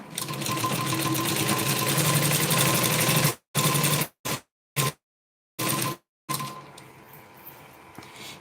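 A sewing machine runs steadily, stitching a straight seam on a blouse, a continuous close mechanical whir that breaks into several short bursts with silent gaps before settling into a softer hum.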